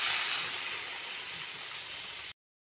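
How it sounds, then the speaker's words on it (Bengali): Water poured into a pan of frying stalks and potatoes for a curry sets off a loud, steady sizzling hiss that lasts a couple of seconds, then cuts off abruptly. "এবার তাতে আমি পরিমাণ মতন জল দিয়ে দিচ্ছি"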